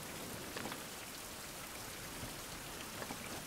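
Steady rain falls in a survival game, a dense, continuous hiss of drops with occasional slightly louder patters and no voices.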